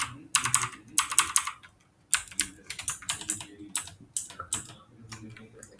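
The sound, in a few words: typing on a computer keyboard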